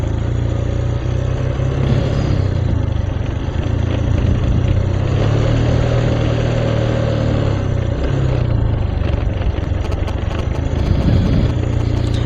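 A motorcycle engine runs steadily throughout on a group Sunday-morning ride toward Telomoyo near Jogja, a loud, continuous low drone with rushing wind noise and small shifts in pitch as the ride goes on.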